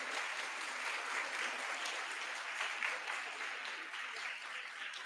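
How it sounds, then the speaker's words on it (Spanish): An audience at an astronomy talk applauds the introduced speaker, a dense, steady wash of clapping throughout, moderately distant and even in level. "Le damos un fuerte aplauso."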